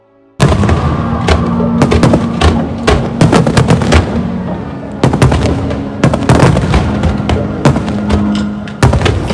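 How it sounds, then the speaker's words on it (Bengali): Fireworks burst over a bridge in a loud, close, irregular barrage of sharp cracks and booms that starts abruptly and keeps firing in dense clusters throughout. "চলুন একসাথেই তাহলে একটু ফায়ার ওয়ার্কস দেখে নিই"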